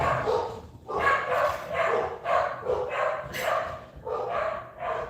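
Several dogs bark in a home, a run of loud, close woofs and yips that come in quick bursts with short gaps between them, and nobody speaks over them.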